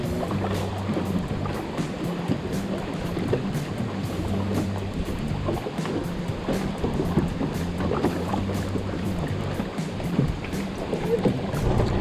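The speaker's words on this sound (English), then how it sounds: "these waves are getting a little bit choppy" Choppy lake waves slap and wash steadily against a small Gheenoe fishing boat on a Tennessee lake, a continuous close churning with low rumbling wind noise and no voices.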